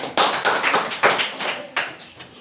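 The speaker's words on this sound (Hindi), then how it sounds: "बहुत जोरदार ताली बच्चों के लिए" Schoolchildren in a sixth-grade science class clap loudly in a rhythmic series of about six sharp, bright bursts, close and energetic, with no talking over them.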